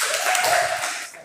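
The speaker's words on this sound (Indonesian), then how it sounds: "Tepuk tangan buat kawan bangsa." A short, soft burst of clapping from the audience at a teacher professional-education performance assessment, lasting about a second and fading at the end.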